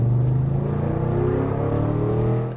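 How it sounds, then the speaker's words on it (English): A 1937 Ford Coupe hot rod with a 425-horsepower big-block crate engine revs loud and close, giving a deep, rumbling drone that holds steady and then fades at the end. "It's got a big block engine, 425 horsepower, crate motor."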